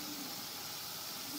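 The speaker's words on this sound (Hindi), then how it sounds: "और अब मैं इसको भून रही हूँ" Spring onion and potato sabzi sizzling as it roasts in a pan, a steady soft hiss of frying with no break, fairly quiet and close.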